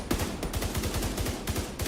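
Rapid gunfire from The Division 2 video game, a steady stream of evenly spaced shots at moderate level, continuous across the whole stretch with no talk.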